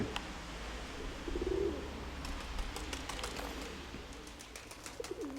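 Pigeons cooing nearby, with a short low coo standing out over steady outdoor background noise and scattered faint chirps.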